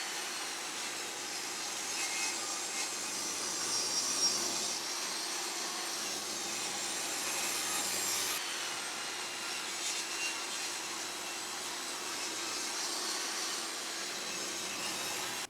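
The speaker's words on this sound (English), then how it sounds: "going to be cutting these boards to the correct width" Saw steadily cutting wooden boards to an 80 mm width for an outdoor chair, a continuous broadband rasp with no pauses that holds its level for the whole stretch and is heard on its own, with no voices.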